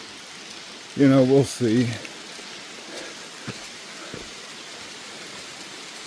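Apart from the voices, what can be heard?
rain falling on the Appalachian Trail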